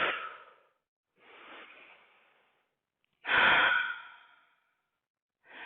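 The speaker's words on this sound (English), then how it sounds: "Complete exhales." Slow, complete breath exhales during a power yoga session, three long airy breaths out separated by silences, close and soft, with a fourth beginning at the end.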